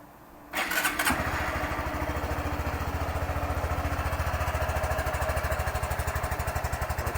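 A Honda Grom MSX125 motorcycle on its stock exhaust starts up and settles into a steady, close, loud idle with an even, rapid pulsing putter that continues throughout.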